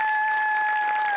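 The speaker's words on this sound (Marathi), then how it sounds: "ही सिरीज ज्याला कोणाला सुचली त्याच्याकरता एकदा टाळ्या वाजल्या पाहिजे." Audience applause at a Marathi comedy show, a steady dense patter of many hands clapping together, sustained at an even level for a short burst.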